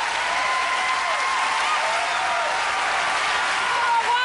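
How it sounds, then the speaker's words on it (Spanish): A concert audience applauds loudly and steadily as a singer is introduced at a tribute concert, dense sustained clapping with a voice carrying over the top. "Un fuerte aplauso para él."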